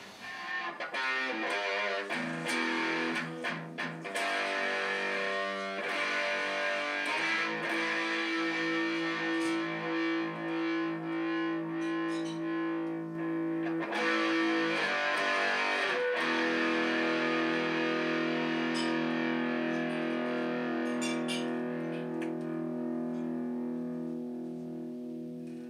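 A custom electric guitar with a built-in light, played through its pickup with heavy distortion, sounds sustained chords and ringing notes that carry on loud and unbroken, with no voices over them.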